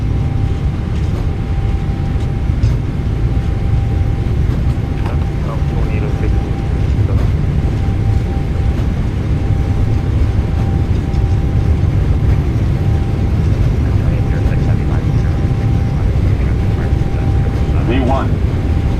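Jet engines of a PMDG 777-300ER at takeoff power in a flight simulator game roar as a loud, steady broadband rumble that persists throughout without letting up, with faint voices heard beneath it.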